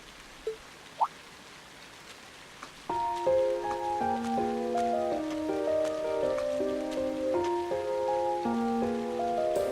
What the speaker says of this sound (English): I do apologize for stopping you on a rainy day like this.